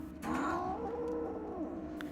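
A sick stray cat in a snowstorm gives one long, wavering, drawn-out meow that bends in pitch, close and fairly loud, with no other voices around.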